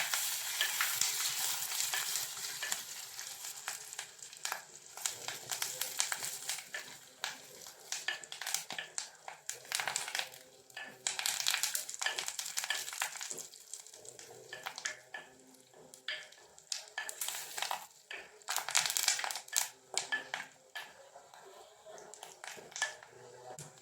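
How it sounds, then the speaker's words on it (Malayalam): Onions, curry leaves and dried chillies fry in oil for an Onam-style ginger curry, a steady close sizzle with intermittent stirring scrapes and bursts of crackle throughout, no talking over it. "ഒരു മൂന്ന് മുളക് അതുകൂടെ നമുക്ക് ഇട്ട് കൊടുക്കാം ഇതെല്ലാം കൂടി നന്നായിട്ടൊന്ന് മൂപ്പിച്ചെടുക്കാം"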